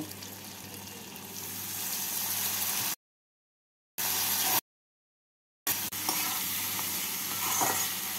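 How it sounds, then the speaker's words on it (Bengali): Potatoes with ginger paste, green chili paste, Kashmiri red chili powder and a little water sizzle and scrape under steady close stirring in a pan, interrupted by two short stretches of total silence. "অল্প জল দিয়ে মশলাটাকে আলুর সাথে কষিয়ে নেব।"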